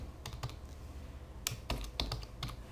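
Keys clatter on a computer keyboard in short, irregular bursts of close, crisp taps, quiet and alone with no talking.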